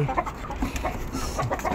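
Chickens clucking at evening feeding time, a steady low busy chatter of several birds close by with soft overlapping clucks throughout.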